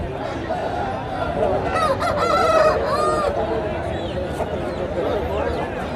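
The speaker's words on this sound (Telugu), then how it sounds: "పుంజులు బాగున్నాయండి" Roosters crow amid general clucking and honking fowl at a busy country chicken market, with people talking loudly over the birds throughout.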